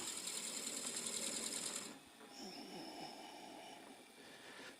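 A drill bit boring into wood to make a salt shaker, a steady high whirring drone that stops abruptly partway, then gives way to quieter scraping and handling noises.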